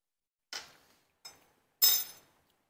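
A metal spoon picked up in a kitchen during cooking: three sharp, close clinks that ring out and decay, the last one loudest, spaced apart with silence between them.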